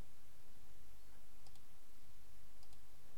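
Faint computer mouse clicks sound in a quiet room, a couple of light, sharp ticks spaced about a second apart over a low background hiss.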